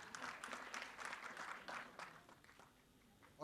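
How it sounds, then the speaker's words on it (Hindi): An audience at a movie trailer launch event claps in a steady burst of applause that carries on for a few seconds, then tapers off, moderately near with a faint crowd murmur underneath. "एक बार शिल्पा जी के लिए जोरदार तालियां हो जाएं प्लीज"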